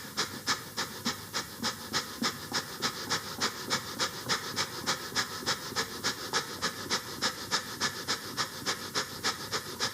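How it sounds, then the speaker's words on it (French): Rapid, forceful breath-of-fire breathing during a morning energizing yoga routine, a steady train of short sharp exhalations at about two per second, close and loud, continuing evenly throughout with no talking. "on va faire la respiration du feu. J'inspire, j'expire de manière rapide."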